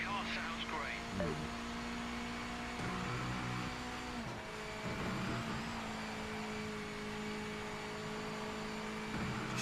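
Race car engine in the racing video game Project Motor Racing, a steady droning hum running continuously through the clip, with a person talking over it.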